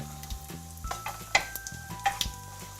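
Chinese sausage fries and bubbles in a pan for Malaysian special fried rice, a soft sizzle broken by a few sharp spatula taps and clinks.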